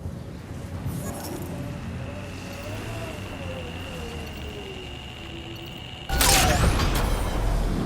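A vehicle driving in the video game Mass Effect Andromeda, a steady low engine drone with faint tonal whine, then a sudden louder burst of rough noise near the end.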